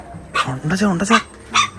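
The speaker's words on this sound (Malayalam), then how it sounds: "ഇതിനകത്ത് പട്ടിക്കുട്ടി ഗൈസ്" A puppy inside a bathroom gives several quick, high yipping barks close by, in short bursts one after another.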